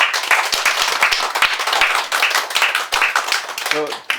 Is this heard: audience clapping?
yes